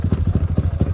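A 125cc motorcycle engine idles steadily nearby, its low chugging pulse repeating in an even, rapid rhythm.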